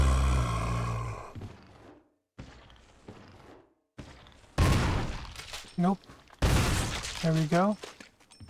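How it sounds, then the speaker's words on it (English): Shotgun blasts in the Resident Evil HD Remake, loud booming bursts with crackling tails, several shots spread across the stretch with short pauses and game sounds between them. "Let's go with the shotgun."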